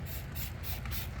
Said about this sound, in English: What we're going to do is just spray this on the metal.